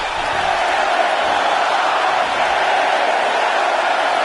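Wrestling video game crowd roaring in a steady, dense wash of cheering and shouting, loud and continuous throughout with no distinct pauses.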